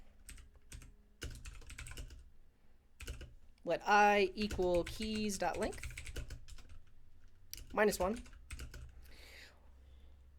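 Code is typed on a computer keyboard as quiet, uneven clusters of key clicks, with a person talking over part of it.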